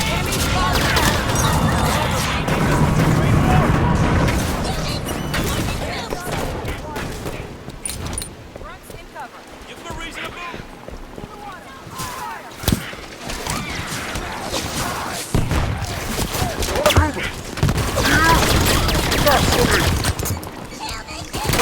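Halo 5 Guardians gunfire rattles in bursts amid mechanical clanks and impacts, loud and sustained over about twenty seconds, with voices talking through it.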